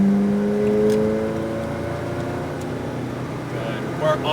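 A McLaren 570 GT4 race car on a track, its engine note falling and shifting as it lifts off the throttle and brakes hard, with a steady hum and talk over it.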